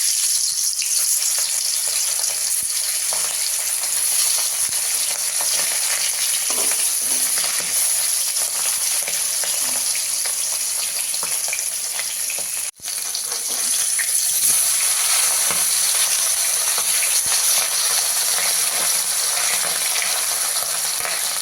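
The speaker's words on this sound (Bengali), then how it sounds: "ইলিশ মাছগুলো এবার ভেজে নেবো। তেলটা গরম হয়ে গেছে, মাছগুলো ভেজে নেবো।" Hilsa fish frying in hot mustard oil, a dense, continuous crackling sizzle held close and steady throughout, broken only by one brief sharp click partway through.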